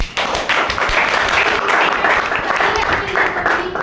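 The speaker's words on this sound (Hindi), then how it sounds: "मैं चाहूँगी हमारी कंपनी के लिए जोरदार तालियां।" An audience at a company plan show in Panipat claps loudly for the firm's 25th anniversary, a close, thick burst of applause with sharp individual claps and some voices mixed in.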